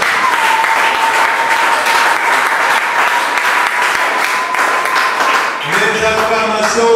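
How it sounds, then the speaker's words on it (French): A church congregation breaks into loud, sustained applause and cheering that fills the room. Near the end the clapping eases as a sustained, tonal voice or music rises over it. "Est-ce qu'on peut encore acclamer ce Dieu?"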